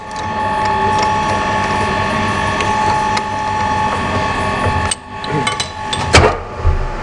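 A ratchet clicks rapidly and loudly, close up, while removing the oil pan from a Skoda, then stops and is followed by a few metallic knocks and clanks of tools.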